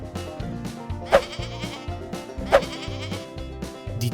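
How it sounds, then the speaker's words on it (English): Goats on a farm bleat in two short, loud calls close by, spaced about a second and a half apart over a low, rhythmic background hum. "Look at all those goats."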